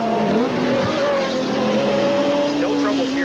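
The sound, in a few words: IMSA GTP race cars passing on track at Lime Rock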